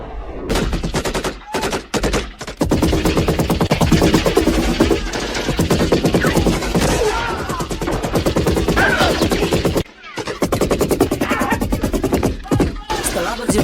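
Rapid machine gun fire from an action movie, long loud bursts of dense, rattling shots broken by brief pauses, with a voice talking over the gunfire.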